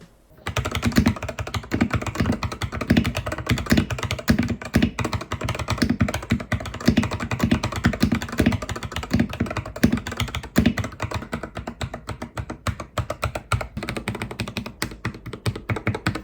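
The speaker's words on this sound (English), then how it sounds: "now that the keyboard is all clean, let me show you guys what it sounds like" Rapid, continuous typing on a mechanical keyboard, close and crisp, with clacking keystrokes and deeper thocks in a steady flurry.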